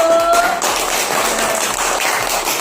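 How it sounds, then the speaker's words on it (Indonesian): Dense applause from a class fills the whole stretch, steady and loud, with a brief tonal whistle-like note at the very start. "tepuk tangan untuk kelompok 1"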